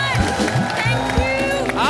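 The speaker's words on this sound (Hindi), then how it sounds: "एक बार सिद्धार्थ और जैकी के लिए जोरदार तालियां।" An audience at a comedy show claps and cheers loudly together, a dense burst of crowd noise mixed with voices throughout.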